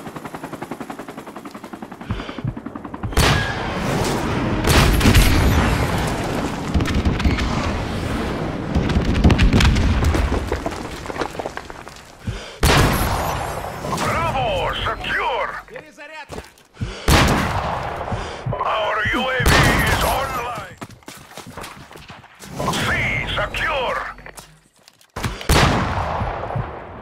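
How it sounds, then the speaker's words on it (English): Call of Duty 4: Modern Warfare Remastered multiplayer match with rolling airstrike explosions and bursts of automatic gunfire, loud and continuous, coming in waves with brief lulls between heavy blasts. "Friendly airstrike on the way!"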